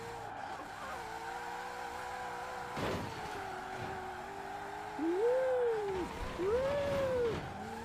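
A car in Forza Horizon 4 races in reverse at about 100 mph, its engine holding a steady, loud drone that rises in pitch, with two short swooping tire squeals near the end.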